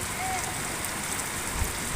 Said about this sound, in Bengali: আজকে অনেক বৃষ্টি হচ্ছে, প্রচুর বৃষ্টি